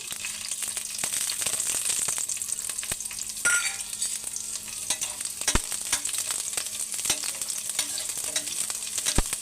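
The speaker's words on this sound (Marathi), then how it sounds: "आता थोडंसं तेल गरम झालं की त्याच्यामध्ये हे कट केलेले लसूण टाकून घेते" Chopped garlic frying in about a spoonful of hot oil, a bright crackling sizzle punctuated by repeated sharp spatula taps and scrapes against the pan, close and fairly loud, with no talk.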